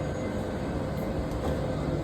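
A crowded metro train interior hums with a steady, fairly quiet rolling rumble and faint mechanical whine, constant throughout.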